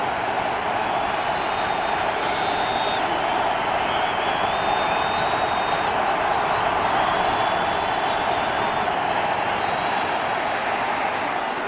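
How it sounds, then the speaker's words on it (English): A steady, dense roar from a vocal football stadium crowd at a Denver Broncos home game against the Tampa Bay Buccaneers, cheering continuously on a third down with no breaks. "Now this crowd vocal, urging the Broncos to start the Bucs on 3rd and 8."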